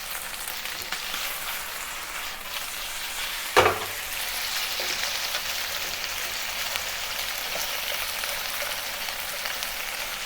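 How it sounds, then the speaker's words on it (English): Beef searing in a non-stick pan gives a steady close sizzle, broken by one sharp clack and burst of spitting as the meat is flipped with a chopstick, then the hiss carries on evenly. "And sear the other side."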